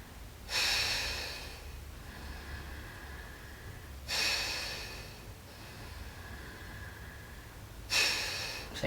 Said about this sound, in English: In the Bhastrika Pranayama, we exhale forcefully through nostrils